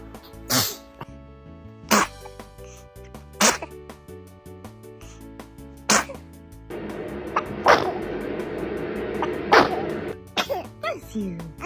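A baby gives several sharp sneezes spaced a second or two apart, close and fairly loud, with soft adult voices reacting in between.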